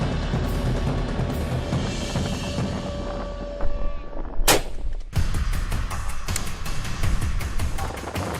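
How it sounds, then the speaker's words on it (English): A single loud rifle shot fired with a large-calibre rifle at a huge animal during an Australian hunt, one sharp broadband crack rising from steady outdoor ambience, followed by a second burst of noisy activity. "Al's first shot was great, you know, even with a giant rifle like he was using"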